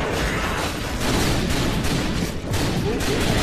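Rapid gunfire in the video game House of the Dead Overkill, a loud, dense, continuous barrage of shots with no break.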